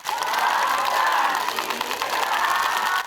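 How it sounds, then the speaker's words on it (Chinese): Fans cheer and applaud at a Taiwanese opera star's first fan meeting, a dense, continuous roar of clapping and cheering from a large crowd that holds steady and loud for the whole stretch. "掌声、欢呼声此起彼落"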